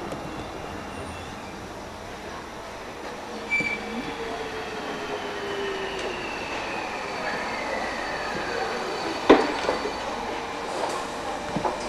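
A trolleybus running through the Essen tram subway, a steady rumbling roll in an enclosed tunnel with rising and falling whines and a sharp clack near the end.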